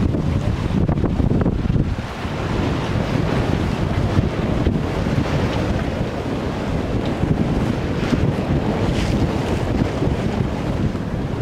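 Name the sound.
sailboat moving at full speed, wind and waves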